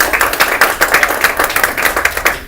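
An audience at a Keymasters meeting stands and claps after a speech, with dense, steady applause of many hands filling the whole stretch at close range.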